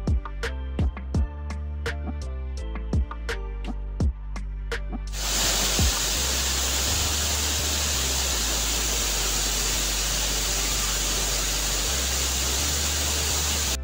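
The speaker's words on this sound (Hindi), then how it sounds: "ये एक और वाटरफॉल रास्ते में आया था" A roadside waterfall in Kashmir's Neelam Valley roars as a loud, continuous broadband rush; a few sharp clicks come first, then the steady water noise dominates alone.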